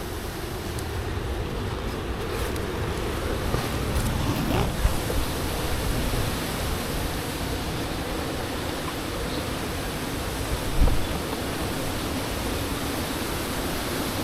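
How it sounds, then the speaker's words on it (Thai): Strong, cold wind roars steadily and loudly around a tent, a dense unbroken rush with a couple of brief gusty bumps, no voices heard. "ตอนนี้เรากลายเป็นผู้ประสบภัยจากลมนะครับ ลมหนาวนะ แล้วดูเสียงลมนะฮะ"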